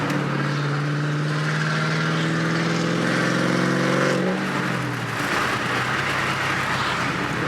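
A Ford 3V Mustang with a Bama pop corn tune revs loudly and close by, its engine pitch sweeping upward for about four seconds before falling back to a rough, rumbling idle.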